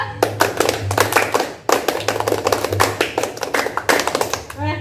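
A group of young people performs the rhythmic scout clapping game tepuk pramuka as an icebreaker, sharp unison claps in quick patterned bursts separated by short pauses, loud and close.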